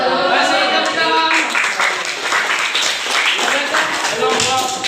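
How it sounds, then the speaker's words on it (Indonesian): Classroom clapping for a student group presenting their work, scattered hand claps from the class mixed with children's voices talking over it. "Kasih tepuk tangan."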